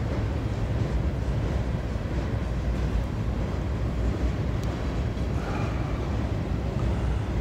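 A Norfolk Southern freight train of sand hoppers from Bridgeton, New Jersey, hauled by new SD70ACe locomotives, rolls past as a loud, unbroken low rumble and wheel roar that holds steady throughout, with no voices.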